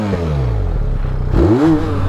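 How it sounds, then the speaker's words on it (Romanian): A motorcycle engine revs under throttle nearby, with a low idling rumble that rises into a sharp rev and falls back, loud and without speech. "Hai, dă de accelerație. Să dai de accelerație."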